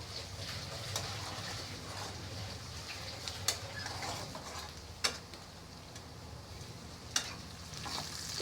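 Egg masala spices frying in a pan for egg bhuna, a steady soft sizzle with occasional sharp ticks of a utensil scraping against the pan.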